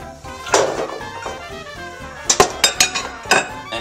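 Carrots, mushrooms, potatoes and onions dropped and tossed into a cooking pot, giving a run of close, bright clinks and knocks, one early clatter and then several quick sharp hits in a row, with no talking.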